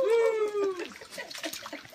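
A dog splashes and plays in puddled rainwater, soft watery splashes continuing over about two seconds after a brief high whine at the start, with a person talking nearby.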